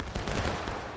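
A musket volley cracks out together on a shouted command at a 2019 battle reenactment, a dense loud burst rolling into a brief echoing rumble across open ground.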